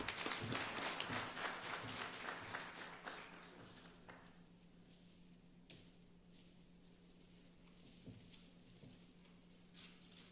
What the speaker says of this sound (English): And there we have it, a big round of applause.